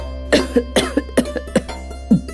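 A run of rapid, harsh coughs, about eight in quick succession, close and loud over a low steady hum.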